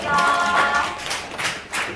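An audience claps for a lecturer after a lecture on unification and international relations, a steady, moderately loud round of applause filling the room, with a voice speaking over it briefly.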